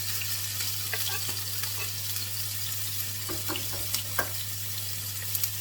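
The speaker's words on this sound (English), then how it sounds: "So we go ahead and we add in our onions, green chilies, and our garlic." Onions, green chilies and garlic hiss and crackle steadily in hot oil, a close, continuous sizzle with a few sharper pops and light stirring scrapes near the end.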